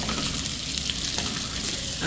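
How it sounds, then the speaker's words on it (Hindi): Carrot, capsicum, red bell pepper and cabbage sautéing in a pan for chicken lo mein, a loud, continuous hissing sizzle with stirring noise and no speech. "कैरेट, कैप्सिकम जो है हमारा, रेड बेल पेपर और कैबेज को ऐड किया, इसे भी हम 1 मिनट के लिए सॉटे करते हैं इसी में।"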